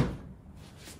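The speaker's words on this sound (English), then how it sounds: "I am having to kind of force these drawers out" An old French Provincial dresser drawer forced out along its metal tracks gives one short, close thump and scrape at the start, then trails off into quiet room noise, with no voices.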